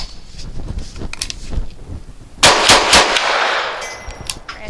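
A Grand Power SP9 A3 Stribog fires Winchester Active Duty ammunition outdoors: a few sharp shots, then a rapid string of loud cracks, with wind noise in between.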